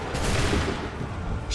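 Gunfire in Assassin's Creed III, a dense, loud volley of shots and booms filling the whole moment, with a fresh blast at the very end.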